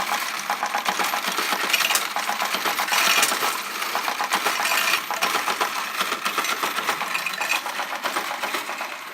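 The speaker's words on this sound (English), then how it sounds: "sometimes the problem will happen with the coins as they will occupy the tray" Coins drop continuously into the tray of an S&T CCM-Sx coin module, a loud, dense metallic clatter over a mechanical whir that keeps going for the whole stretch.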